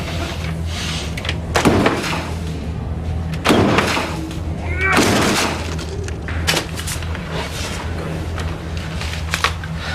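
A door is tried and forced in a police drama: a handful of sharp bangs, thuds and rattles at irregular intervals, fairly loud against a steady low hum, with no one speaking.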